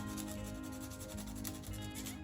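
80-grit sandpaper rubs steadily by hand over a wooden trout lure, a quiet continuous rasping scrape close by with no talk.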